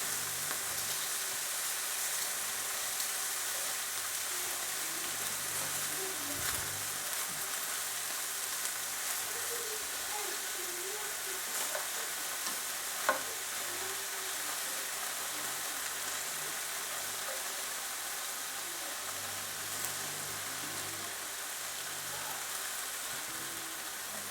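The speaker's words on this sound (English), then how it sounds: "I will do this in as many batches as I need until all my beef is rendered and has been lovely and browned" Beef pieces browning in a hot pan for beef stroganoff, giving a steady, even sizzle that carries on unbroken at moderate volume with no talking.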